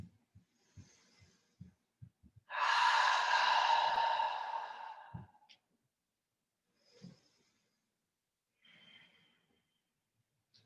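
A yoga practitioner breathing during a kneeling vinyasa pose: one long, loud, airy exhalation lasting about three seconds, framed by soft clicks and a couple of faint breaths in a quiet room.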